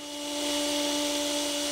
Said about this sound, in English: And I'm going to go ahead and sand this